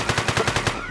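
Rapid automatic gunfire in a video game, about ten sharp, punchy shots in quick, even succession before cutting off abruptly.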